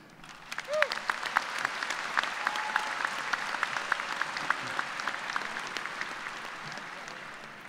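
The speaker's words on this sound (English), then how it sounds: "please hold your applause until the end" Audience clapping at a university engineering spring commencement, a broad sustained round of applause in a large hall that builds quickly and holds steady, with a short voice heard at the start.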